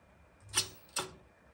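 Enter key pressed on a computer keyboard, two quick, faint clicks about half a second apart in a quiet room.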